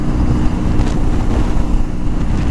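A BMW R1200S motorcycle cruises on a highway in sixth gear, a steady low engine drone buried under heavy, loud wind rush that runs unbroken throughout.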